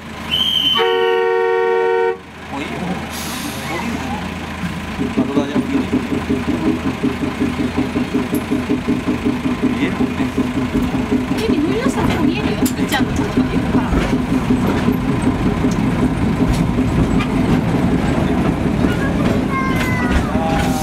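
Akasawa forest railway train among old Kiso cypress forest: a loud, sustained horn toot opens, then the engine and wheels settle into a rhythmic clatter that builds steadily, with a recorded announcement speaking over the running.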